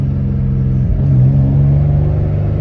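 A Nissan G35 Coupe with an HR engine swap and anti-lag runs loud and close in a deep, throbbing drone, rising briefly as the revs climb and then settling back.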